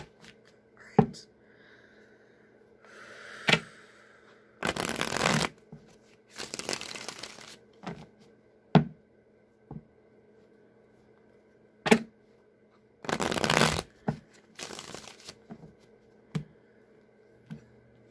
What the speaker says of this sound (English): as I was shuffling this deck again